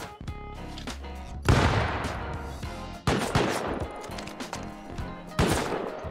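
Automated turrets firing in a compound inside a video game, three heavy bursts of booming gunfire roughly every one and a half seconds, each decaying before the next, loud and near.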